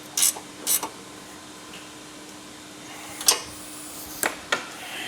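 Close, clicking ratchet strokes tighten 10 millimeter bolts with 16 millimeter heads while a cooling support bracket is installed on an Ineos Grenadier: a few short bursts of ticks, then a pause and more clicks.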